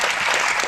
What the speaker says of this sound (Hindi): तालियां उठे भाई